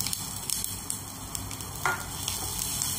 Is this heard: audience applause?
no